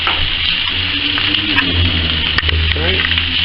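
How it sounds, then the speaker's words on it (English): Tinned peas tipped into a pan of frying onions and corned beef, loud close sizzling with stirring scrapes and a few clatters throughout. "I've transferred the onions into the corned beef pan now. Now I should add some peas. So I need to add the whole tin."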